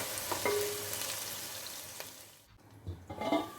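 Sliced onion and green chili fry in oil for vegetable biryani, a soft, close sizzle broken by a few scraping stirs, fairly quiet overall.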